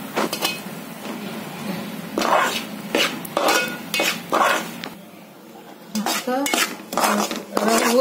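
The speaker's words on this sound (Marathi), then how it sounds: "रवा मी तुपामध्ये चांगला भाजून घेते" Semolina is stirred and roasted in ghee in a pan, a spoon repeatedly scraping and clinking against the metal in uneven close bursts, with brief pauses between strokes.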